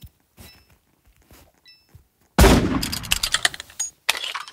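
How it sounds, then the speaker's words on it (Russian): Pistol fire in the Roblox game Murder Mystery 2: after quiet footsteps and faint clicks, a sharp loud shot bursts out followed by a rapid cluster of cracking reports and clatter, then a brief pause and a few more hits. "Вот слышите, как мой пистолет стреляет?"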